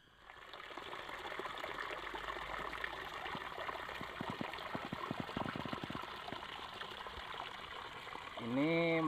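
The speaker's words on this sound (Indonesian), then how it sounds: "Ini mata airnya asli dari mata air pegunungan nih teman-teman." Clear mountain spring water on Gunung Gombong in Cianjur, West Java, flowing steadily as a continuous close trickle and gush, with a brief voice at the very end.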